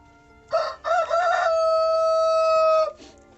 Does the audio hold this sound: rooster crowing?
yes